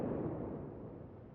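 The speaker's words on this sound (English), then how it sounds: "I think this tirpitz is eating some torpedoes" Torpedoes striking the Tirpitz battleship in World of Warships: a dense, steady rumble of muffled explosions. It starts loud and full, then eases slightly, with no clear separate blasts.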